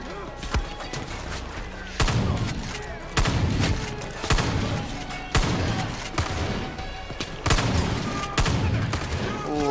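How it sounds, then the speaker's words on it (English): Shotgun blasts ring out in Far Cry 5, roughly a dozen sharp, heavy shots at irregular intervals, loud and close amid game sounds. "I do not like this shotgun as much."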